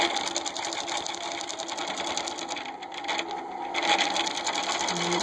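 A longarm quilting sewing machine stitches a quilt in a fast, steady whirring buzz, dipping briefly partway through before resuming at full pace, close up with no talk.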